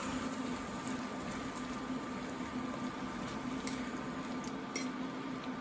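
Coconut milk and tomato mixture simmering in a pan gives a steady, close bubbling and gurgling hiss that stays even for several seconds, with no talking.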